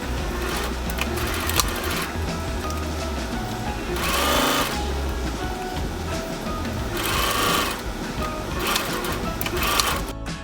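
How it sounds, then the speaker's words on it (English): Sewing machine stitching straight down a folded, pinned fabric corner, a fast steady mechanical whir with bursts of louder running, close by and without talk. "so now I've got my folded and pinned corner, so I'm just sewing straight down"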